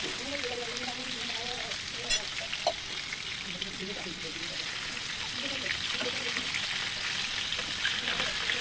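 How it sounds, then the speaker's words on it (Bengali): BBQ chicken frying on low heat in a pan, a soft steady sizzle with a couple of small clinks, under a quiet voice. "এভাবে আমি প্রায় চুলার আঁচ কমিয়ে রেখে 8-10 মিনিটের মতো ভেজে নিয়েছি।"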